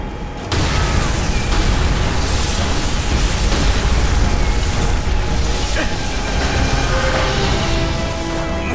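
Explosive charges detonate in Call of Duty: World at War on Veteran difficulty, a loud sustained roar of blasts and rumbling debris that begins abruptly and continues throughout.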